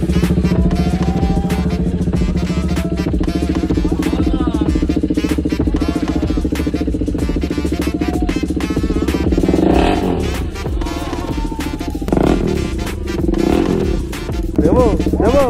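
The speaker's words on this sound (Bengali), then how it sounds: "এবার চেক করো ফুল সিস্টেম এক্সস্টার সাউন্ড।" A KTM RC 390 fitted with a full-system exhaust revs loudly and close for the whole stretch, its steady low drone swelling in repeated throttle blips while people talk over it.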